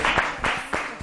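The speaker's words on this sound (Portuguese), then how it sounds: "Ok, palmas então para vocês." Audience applause on a Portuguese television talk show, three brief bursts of clapping in quick succession, close and moderately loud.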